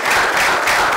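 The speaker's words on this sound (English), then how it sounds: "A round of applause to Emily" Audience applause for two speakers at a live masterclass event, a dense, steady wash of clapping that stays loud and even throughout with no voices.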